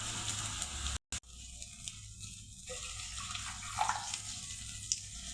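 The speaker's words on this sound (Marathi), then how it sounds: "एक अर्धा तांब्या पाणी टाकू आपण." About half a small pot of water poured into a cooking pan of spiced mixture, a close gushing splash with a brief break, then a bubbling hiss, with no talking.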